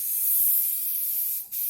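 An aerosol spray can lays a thin coat of paint over a stencil, giving a steady close hiss that runs nearly unbroken with one brief pause near the end.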